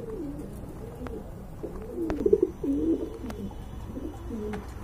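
A pair of red checker thick-beaked pigeons coos nearby, soft throaty rolling calls that swell briefly mid-clip over a low, steady background hum.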